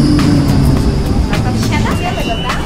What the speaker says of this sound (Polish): Tramwaj jedzie! Nasz tramwaj!